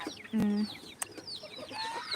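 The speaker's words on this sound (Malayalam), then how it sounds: "ഇതാ നമ്മളെ സേലം കോഴി കണ്ടോളി ഗൈസ്" A Salem chicken clucks in a series of short, close calls among other birdsong, with a brief knock and some background noise around it.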